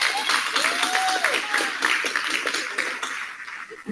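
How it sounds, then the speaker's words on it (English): An audience at an awards gala in Selma, Alabama breaks into applause, a dense stretch of clapping with a few bright pings and background voices under it. "Let's give him a round of applause."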